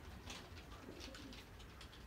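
Racing pigeons, worn out after a 540 km long-distance race, coo softly in a loft, with several low, repeated throaty calls and no talk.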